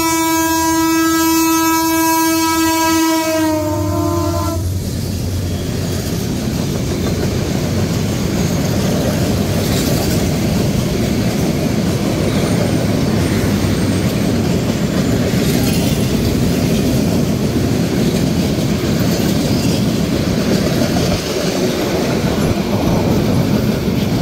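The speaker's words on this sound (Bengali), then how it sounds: "টাঙ্গাইলেই আমাদের সাথে দেখা হয়ে গেল ঢাকা থেকে ছেড়ে আসা লালমনিরহাটগামী বুড়িমারি এক্সপ্রেসের সাথে।" At Tangail, the Dhaka-to-Lalmonirhat Burimari Express sounds a loud, steady horn blast for about four seconds, then passes close by with a long, heavy rumble and clatter of wheels that continues to the end.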